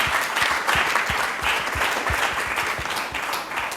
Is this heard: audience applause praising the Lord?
yes